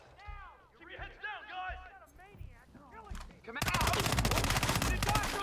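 Video game gunfire in Hitman 2: after shouted voices, a dense burst of rapid automatic shots erupts and continues loud and unbroken to the end.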